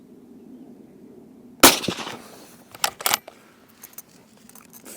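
A Seekins Precision Havak Pro Hunter 2 rifle fires a Hornady 150 grain SST round in one sharp, loud crack, followed by softer clicks and clatter of handling.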